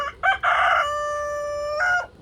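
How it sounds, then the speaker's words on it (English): A young rooster crows nearby, a loud, slightly strained, shaky crow with a couple of short rising notes, then a long held tone and a clipped ending, heard alone. "Let's wait for this baby rooster."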